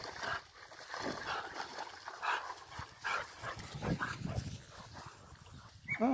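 A pointer dog whimpers and yelps while being bathed, with sloshing water and splashing throughout and a sharp rising whine near the end; no clear speech over the noise.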